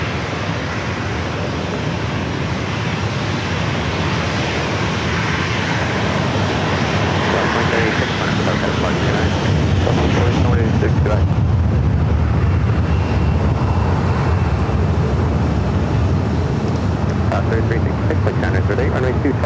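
A Southwest Airlines jet takes off at San Diego airport, giving off a loud, continuous, broadband engine roar that stays strong throughout, with a voice faintly present.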